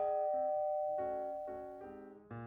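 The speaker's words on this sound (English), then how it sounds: "Just then, the doorbell rings." A doorbell sound effect in a children's Thanksgiving story plays a clear, ringing sequence of chime tones, one note after another, fairly quiet and alone.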